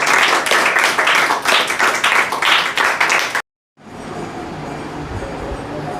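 Audience at a motivational speech claps together for about three seconds in a dense, uneven patter, then a brief silence follows before muffled room noise resumes.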